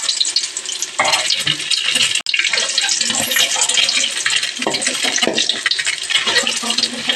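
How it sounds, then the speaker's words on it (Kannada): Eggs frying in hot oil, a loud, crackling sizzle that bursts up as they hit the pan and keeps spitting steadily, with a brief sharp break partway through. "ಈಗ ಎಣ್ಣೆ ಒಳಗೆ ಮೊಟ್ಟೆನ ಹಾಕ್ತಾಯಿದ್ದೀನಿ"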